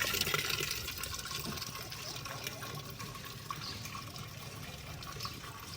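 Water trickles and splashes steadily from a tap into a clay pot at a village home, a continuous faint wash of running liquid with no break.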